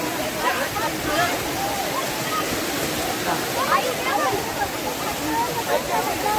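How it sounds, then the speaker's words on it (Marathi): Water rushes over Khar Amboli dam in a loud, unbroken roar of spilling flow, with faint voices of picnicking people mixed into the steady wash. "आणि मी दाखवतो तुम्हाला इकडनं पाणी वाहतंय."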